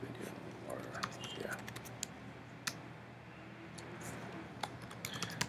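Typing on a computer keyboard, entering a website name: sparse, quiet key clicks scattered over several seconds beneath a steady background hum.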